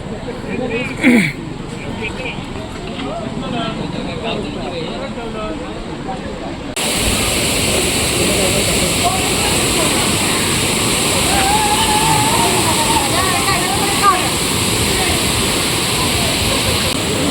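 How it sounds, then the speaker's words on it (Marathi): Steady roaring rush of the Sawdav waterfall in Maharashtra fills the scene, with people talking faintly underneath. "फायनली आम्ही सावडाव धबधब्यावर पोचलो"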